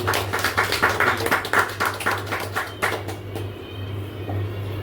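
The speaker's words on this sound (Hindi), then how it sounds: "जोरदार ताली" An audience at a weekly business meeting bursts into loud applause, a quick run of sharp, rhythmic claps that fades after about three seconds into a quieter room with a low background hum.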